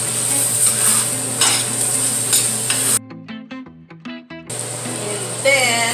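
Ground beef with freshly ground pepper is stirred in a hot pan, with a steady sizzle and scraping under it, a short quiet break partway through with a few clinks, then the frying resumes.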